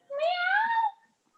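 A single loud, close cat meow, a rising then falling drawn-out call lasting under a second, followed by silence.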